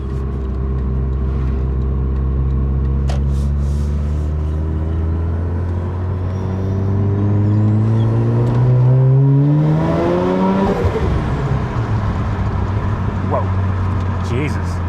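A turbocharged Mazda RX8 with a UniClutch and five-speed gearbox pulls hard on a test drive. Its rotary engine note climbs steadily to a loud whining peak, then drops at a shift, and a voice briefly exclaims inside the cabin.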